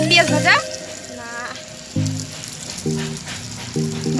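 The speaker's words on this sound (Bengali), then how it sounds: "পেঁয়াজ ভাজা না," Onions fry in a clay pot with a soft continuous sizzle under intermittent voices that speak and break in over it.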